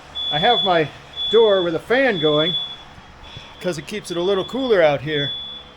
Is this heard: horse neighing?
no